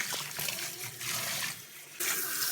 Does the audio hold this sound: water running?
yes